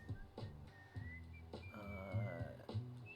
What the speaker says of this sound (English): this little whistling along bit here